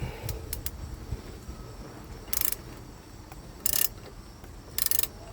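Ratchet and socket turning a puller on the water pump pulley of a 2007 Mazda 6 3.0, three short bursts of close metallic clicking spaced about a second apart over a low background hum.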